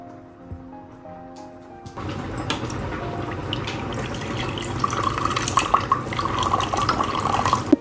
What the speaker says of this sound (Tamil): ஒரு முக்கால் கப் மாதிரி நான் தண்ணி ஊற்றிக்கிறேன்